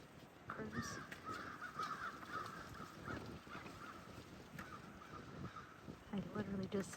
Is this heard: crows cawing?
yes